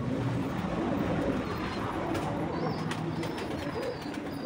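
Caged pigeons coo softly and repeatedly in a loft after feeding, their low throaty calls layered over a constant background hiss with a few faint higher chirps.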